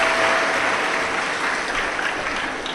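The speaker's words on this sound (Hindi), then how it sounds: "एक बार जोरदार ताली बजाकर इन सभी यजमान परिवार के लिए साधुता" Applause from a devotional audience at a Shiv Mahapuran katha gathering, a dense, sustained wash of many hands clapping loudly, holding steady and tapering slightly toward the end.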